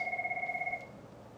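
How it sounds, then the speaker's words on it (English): A phone ringing with a rapid warbling electronic trill that pulses steadily for under a second and then cuts off, leaving quiet room tone. "my phone rang. You probably heard it"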